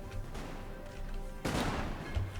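Musket volleys crack from infantry firing off a small hill in Napoleon: Total War, one sharp burst standing out above a busy battlefield rumble.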